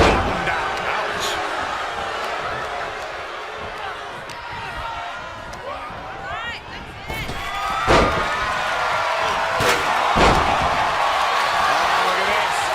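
A wrestling slam knockdown in the WWE 2K23 video game lands as a loud thud amid crowd noise and arena commotion, with a second heavy impact following moments later.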